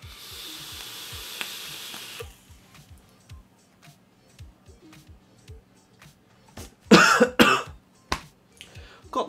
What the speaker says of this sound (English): Got the coughs.